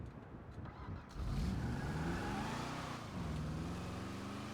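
A car driving in Satisfactory, its mid-pitched engine humming steadily, rising as it accelerates after a brief quieter start, with no talk.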